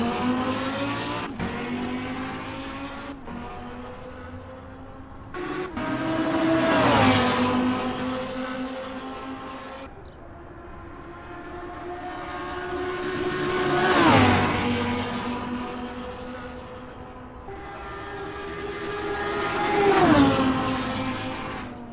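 A Lamborghini Huracan GT3 and other GT3 race cars in a racing video game at Bathurst: engines rise and fall through repeated gear shifts and passes, with a few tire squeals, steady and close without talk.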